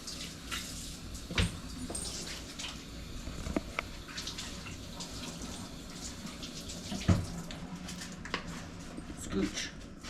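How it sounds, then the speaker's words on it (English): Hands being washed under a running kitchen tap, a soft steady trickle with occasional splashes and clunks, faint in a quiet room, with a voice briefly in the background. "Let me wash my hands real quick."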